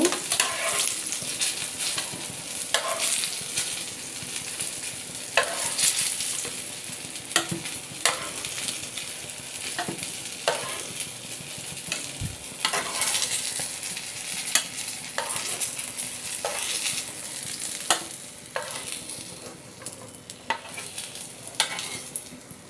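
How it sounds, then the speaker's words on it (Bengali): Eggplant slices frying in oil, an even crackling sizzle broken by frequent spatula scrapes and stirring strokes, close and moderately loud with no talking. "দেখুন বেগুনগুলো লাল লাল করে ভাজা হয়ে গেছে।"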